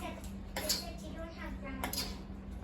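Mashed garbanzo beans being stirred together in a pot or bowl, with soft clinks and scrapes of a utensil against the dish at close range, under quiet background hum.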